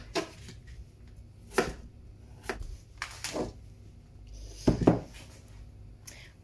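Knife chopping potatoes into wedges on a board, a few scattered sharp chops spread out with pauses, the loudest pair near the end, close and fairly quiet with no talking.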